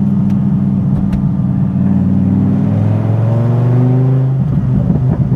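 A Dodge Viper GTS with a burble exhaust tune revs and then decelerates, a loud, close engine tone rising and falling with crackling pops on the overrun near the end.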